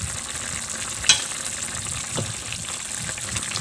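Low carb pork afritada with carrots sizzles steadily in a pan as it is stirred, with a soft hiss of frying, a single sharp clink from the utensil, and a few muffled scrapes.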